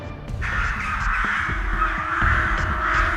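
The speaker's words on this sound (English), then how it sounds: "Look, the crows over the house." Crows caw over a house, repeated harsh calls overlapping at a moderate distance, heard alongside a low rumble and scattered knocks, with no one speaking.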